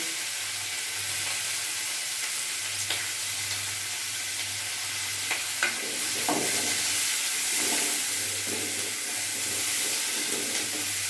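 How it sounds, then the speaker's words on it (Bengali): Onions sizzle and fry in hot oil with whole garam masala spices, a steady moderate hiss with a few stirring clatters and scrapes from the pan, no voices. "এবার আমি পেঁয়াজগুলো দিয়ে দেবো।"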